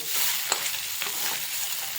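Kasuri methi and salt being sautéed in a kadhai for Mughlai egg curry, a steady close sizzle with light scraping stirs of a spatula across the pan.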